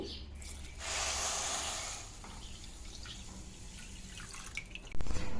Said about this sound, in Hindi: इसमें मैं ऐड करूंगी 1 लीटर पानी।